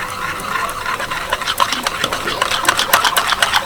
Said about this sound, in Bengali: খুব ভালো করে সমস্ত কিছু মিশিয়ে নেব।